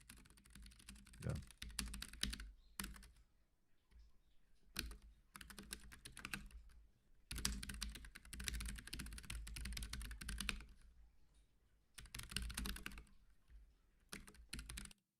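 Steady bursts of computer keyboard typing while coding in NeoVim, close and clear, with brief pauses between runs of keystrokes and a few louder clacks.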